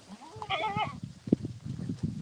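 A goat bleats once in a wavering cry among grazing goats and sheep, followed by scattered soft animal noises and shuffling nearby.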